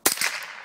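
A single sharp rifle shot from a Ruger 10/22 aimed at spray paint cans, one loud crack with a quick clang-like impact and a short ringing tail, heard alone outdoors.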